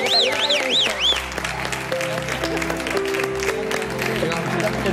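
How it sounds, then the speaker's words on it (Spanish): Applause breaks out in a busy room as a ham carver is cheered during a Spanish afternoon television show, clapping blended with music tones and overlapping chatter throughout. "¡Un aplauso para el cortador!"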